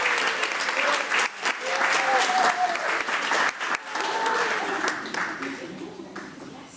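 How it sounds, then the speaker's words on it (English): A round of applause at a school district policy committee meeting, a sustained crowd of clapping hands with brief dips, heard alongside some speech. "And then round of applause"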